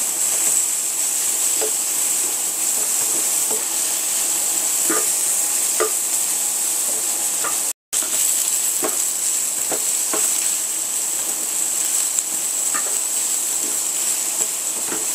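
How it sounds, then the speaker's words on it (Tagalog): Onion and garlic stir-frying in a pan, giving a loud, steady sizzle with occasional small pops and utensil scrapes throughout, broken by one brief silent gap midway. "same pan, let's stir fry our onion. And then add the garlic"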